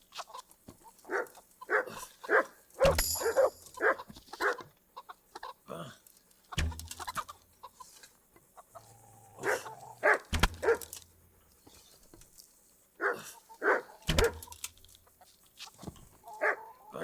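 Dogs bark in short bursts within a medieval village in the video game Kingdom Come Deliverance, mixed with hen clucks and pig grunts, fairly close and moderately loud, with no talk over them.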